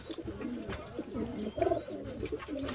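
Pigeons in a breeding loft give soft, repeated throaty coos that overlap steadily at moderate, close volume, with a slightly louder burst near the middle.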